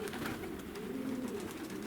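Low, throaty cooing of agitated racing pigeons at their loft rises and falls continuously and is heard up close against a faint noisy background.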